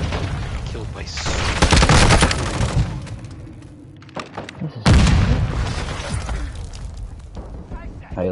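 Bursts of rapid gunfire from the player's own weapon in a first-person shooter game form two loud volleys separated by a quieter gap, with booming impacts. Players talk over the shooting.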